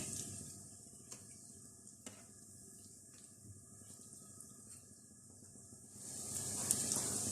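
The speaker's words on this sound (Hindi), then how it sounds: "हल्की आंच पे इनको फ्राई करेंगे" Chicken corn kebabs frying gently in a pan over a low flame, a soft, steady sizzle with faint crackles and a couple of light clicks, swelling into a louder hiss near the end.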